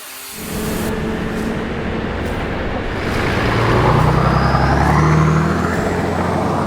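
Several 4x4s, including Nissan Patrol GQs and a Toyota Land Cruiser 79 series, drive off-road on a Tasmanian track, a steady loud engine roar with rushing noise building and holding throughout.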